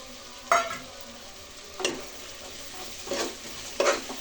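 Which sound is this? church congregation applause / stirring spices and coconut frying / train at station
stirring spices and coconut frying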